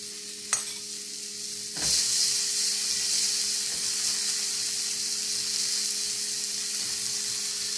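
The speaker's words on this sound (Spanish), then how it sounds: "vamos a poner la cebolla, que se vaya citronando" Onion sautéing in butter in a pan: after a small clatter, a loud, bright sizzle starts and holds steady and close, with a single faint knock partway through.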